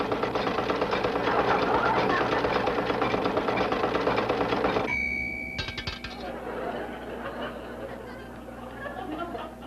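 An electric money machine whirs and rattles mechanically, then stops with a clink of a coin dropping out, followed by a quieter rumble while people talk in the background.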